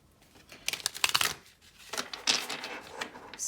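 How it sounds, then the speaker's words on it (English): Oracle cards are shuffled close up in soft bursts of papery riffling and flicking, pausing briefly between handfuls, quiet with no talk. "we are shuffling the rest on camera here"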